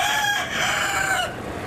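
A rooster crows once in a loud, close cock-a-doodle-doo, the long drawn-out call rising and then trailing off, with no one talking.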